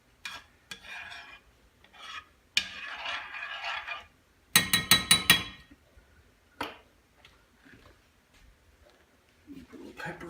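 A spoon works through biscuit gravy as it thickens in a pan, giving intermittent raspy scraping strokes in short bursts. Quiet gaps separate the strokes.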